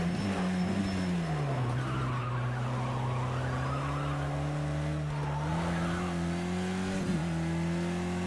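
Race car in a racing video game, its engine holding a loud, steady droning note that dips and climbs in pitch as the driver warms the tyres, with a faint squeal of skidding rubber.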